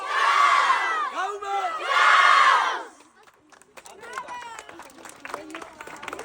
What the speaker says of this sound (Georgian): ბავშვებო, ბოლო შეძახილი და დავასრულეთ